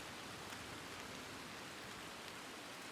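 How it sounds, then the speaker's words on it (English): Steady, dense rainfall in the Red Dead Redemption 2 RedM roleplay world, a continuous even hiss of drops with no pauses, nearby and fairly loud, with no voices over it. "Let's wait for the rain to pass as well"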